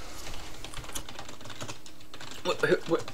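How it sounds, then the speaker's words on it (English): Rapid clicking of a computer keyboard picked up through an open push-to-talk channel during a League of Legends match, irregular keystrokes with a louder burst near the end, mixed with voices. "Whoever's typing."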